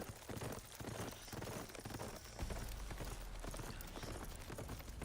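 Horse hooves clip-clop steadily in a video game, a dense run of close hoofbeats over a noisy background, with a low rumble joining midway.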